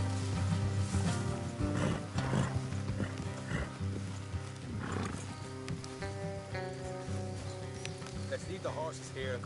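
Horses clip-clop and snort in the open-world western game Red Dead Redemption 2, with hoofbeats and the occasional whinny over a constant music bed and character dialogue.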